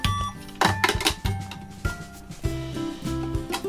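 A toy cash register playset's handheld scanner gives a run of electronic beeps and short jingles in uneven bursts, close and clear, with no voices over it.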